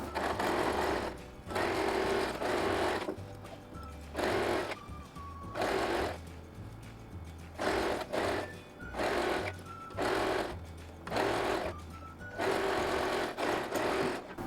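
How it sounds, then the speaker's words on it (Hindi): A sewing machine stitches a seam on plazo pants in several rapid bursts. The close, steady whirring runs for a second or two each time, with brief pauses between runs. "इस तरह आपको आसन में घुमाते हुए सिलाई डाल देना है।"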